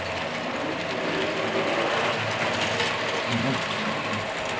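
A Tri-ang model train hauling a rake of Canadian freight cars with a Canadian Pacific caboose, giving a continuous close whirring, ticking mechanical rumble of wheels and motor that holds steady throughout.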